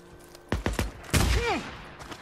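A burst of rapid gunfire in the video game Days Gone, with several quick close shots followed by a heavier blast and a falling whine, loud and alone with no talk.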